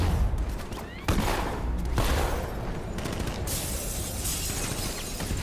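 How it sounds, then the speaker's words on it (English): A riot suppressor in Batman: Arkham Knight fires a rapid, harsh volley of loud, blasting reports that overlap into a dense, crackling barrage, with a few stronger booms standing out. "Fire riot suppressor"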